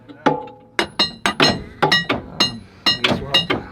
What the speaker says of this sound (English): when it won't start, hit it with a hammer